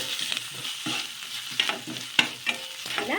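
Onions frying in oil with curry leaves and ginger-garlic paste are stirred in a pan, giving soft sizzling under irregular scraping strokes of a spoon, close and moderately quiet.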